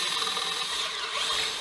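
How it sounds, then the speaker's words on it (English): An 8mm drill bit bores through solid guitar body wood to join two pickup cavities, giving a steady close whirring grind with a faint ratcheting texture that runs unbroken and alone, with no one talking. "Here I'm connecting the two pickup packets with an 8mm drill."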